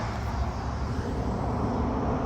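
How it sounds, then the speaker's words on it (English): A fixed-wing airplane passes overhead above a cemetery in Charlotte, North Carolina, a steady broad low rumble filling the moment, distant but dominant, with no voices. "There's an airplane going over."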